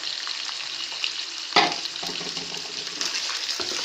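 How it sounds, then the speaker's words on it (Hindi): Boiled mutton fries in a pan with browned onions, a loud close sizzle with stirring scrapes and a sharper burst partway through, no voices. "इसमें अब हम गोश्त शामिल करते हैं ताकि वो भी थोड़ा सा फ्राई हो जाए।"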